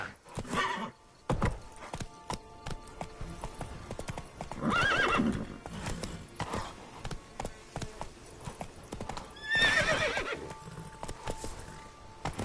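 Horse in The Witcher 3 galloping with rapid clip-clopping hooves, loud and close, broken by two or three sharp neighs and whinnies over ambient game sound.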